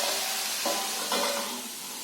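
Raw tomato cooks in a pan over medium gas, a close, steady sizzle and steam hiss with two brief louder bursts as it sputters, no voices.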